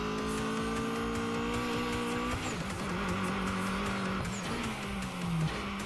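Race car in the video game Mountain Pass Racing braking hard, engine whine falling in pitch as tires squeal and skid through the corner, loud and close throughout with no talking.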